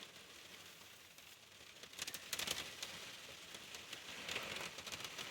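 Steady rain patters on the roof of a truck camper parked in a Pennsylvania state forest, a soft continuous hiss that thickens into denser drumming bursts partway through, close and even with no one talking.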